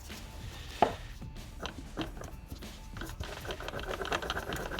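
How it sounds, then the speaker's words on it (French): Worn steering bearing on a Mercedes CLS giving a rough, rapid grinding and ticking chatter while turned, fairly quiet and close, with a sharp knock near the start. "Donc là on entend bien que le roulement il fait un sale bruit."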